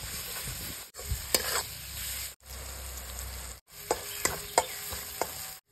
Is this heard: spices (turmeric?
yes